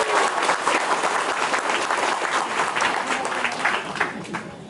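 Crowd applause at a political rally for a gubernatorial candidate, dense sustained clapping from a large gathering that stays loud throughout and tapers slightly at the end.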